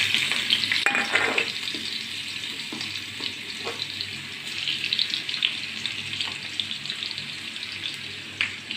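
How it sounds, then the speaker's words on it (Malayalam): Chopped ginger fries in rendered pork fat, a steady broadband sizzle with a few soft stirring scrapes and clinks, close and continuous, with no voices. "പോർക്കിൽ നെയ്യുണ്ട് ഇത്രയും കിട്ടിയില്ലെങ്കിലും കുഴപ്പമില്ല ഞാൻ അതിനകത്തേക്ക് ആദ്യം തന്നെ ഒരു കഷ്ണം ഇഞ്ചി ചെറുതായിട്ട് അരിഞ്ഞത് അതാണ് ചേർക്കുന്നത്"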